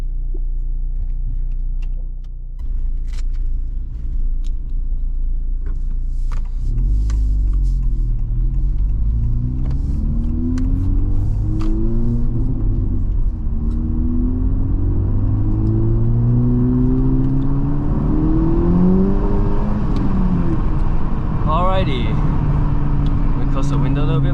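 2023 Honda Civic Type R pulling away from a stop, engine rumble rising through a couple of gear changes as it accelerates, steady and close, heard from inside the cabin.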